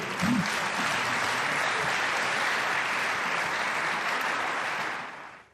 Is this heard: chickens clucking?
no